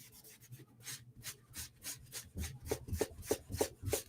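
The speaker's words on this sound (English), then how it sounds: "Now we're going to take a magic eraser." A magic eraser rubs back and forth along a knife blade during sharpening cleanup, giving quiet, close scrubbing strokes in a steady rhythm that grows slightly firmer toward the end.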